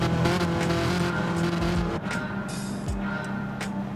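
Nissan GT-R race cars roar together at the start of a Gran Turismo race. The engines drone continuously and loudly, with a shift in pitch midway and brief high whines over the steady pack noise.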